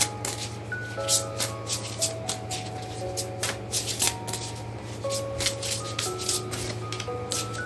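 Tarot cards are shuffled by hand during a reading, making a string of quick, crisp riffling bursts in a steady rhythm. Soft background music plays underneath.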